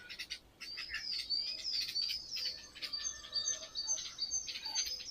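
A mother bird calls repeatedly near its nest tucked among dense leaves, a run of high, sharp chirps and twittering notes that carry on steadily and fairly close, with faint lower calls beneath.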